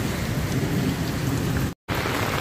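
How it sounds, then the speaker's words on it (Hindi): Heavy monsoon rain pours down in Lucknow with a deep rumbling roar of thunder mixed in, loud and continuous, broken by a brief dropout near the end. "दोस्तों देख लीजिए कितनी मूसलाधार बारिश हो रही है।"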